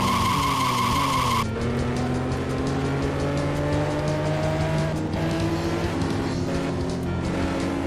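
Racing video game car braking hard, tires skidding and squealing over a rising engine whine after a brief high electronic tone at the start, loud and sustained.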